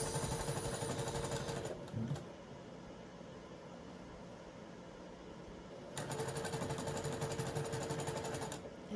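Sewing machine stitching boxer shorts for an American Girl doll, with the stitch length turned up; steady buzzing runs in two close, loud bursts separated by a quieter pause.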